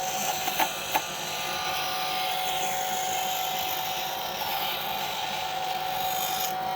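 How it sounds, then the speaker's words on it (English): Bandsaw cutting a curved piece of bark: a steady high whine runs throughout, with a few brief knocks at the start, close and continuous, no talk. "Now I can use the bandsaw to cut it"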